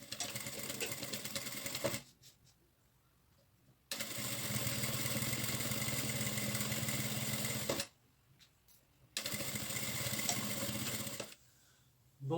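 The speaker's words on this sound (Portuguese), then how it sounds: "vou fazer a costura de fixação do bolso" Sewing machine stitching a pocket onto a fabric folder, running in steady, even bursts of about two and four seconds separated by short pauses, close and clear with no talking.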